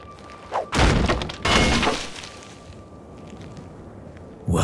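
Loud crashing impacts in Crysis, a heavy thud then a sustained shattering burst a second later, as a weak door is forced open with heavy objects like a barrel or crate; a final hit comes at the end.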